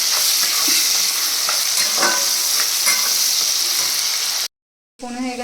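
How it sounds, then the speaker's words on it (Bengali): Tomatoes fry hard in a pan with a steady, loud sizzle and spatula stirring scrapes, then a sudden break to silence before a short burst of sound returns. "এখন এটাকে ভালো করে ভেজে নিই, টমেটোগুলোকে ভালো করে গলিয়ে নিই।"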